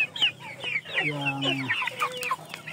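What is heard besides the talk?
Indio Gigante hens clucking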